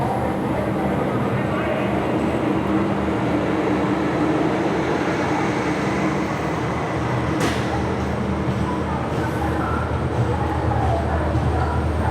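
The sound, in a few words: Dhanbad express train arriving at adjacent platform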